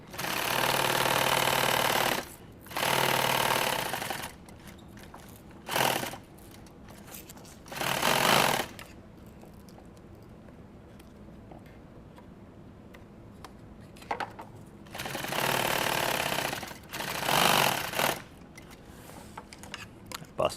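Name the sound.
sewing machine stitching hook Velcro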